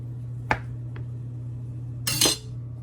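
A knife strikes a board while cutting a bacon-wrapped stuffing log. There is one sharp chop, a lighter tap, and then a louder double chop with a clatter near the end, all set against a low steady hum.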